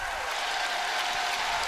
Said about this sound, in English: you hear the home crowd reacting